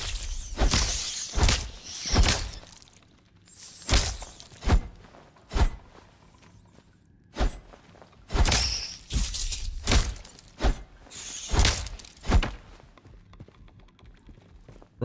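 Footsteps inside a building in the video game Atomfall, a series of heavy, sharp thuds landing in uneven clusters, loud and close, with quieter gaps between them.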